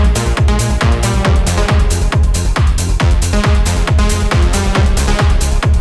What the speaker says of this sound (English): So I have this beautiful melodic progression in a track.